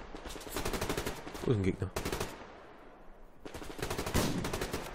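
Rapid automatic gunfire from the video game Survarium comes in dense repeated bursts, loud and close, broken by a pause, while a player talks over it.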